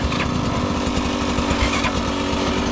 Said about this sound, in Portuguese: se aumentar a lenta da moto